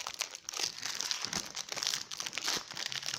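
A small packet of Lu Petits Écoliers biscuits is pulled open up close, giving steady loud crinkling and rustling of the wrapper with brief tearing bursts.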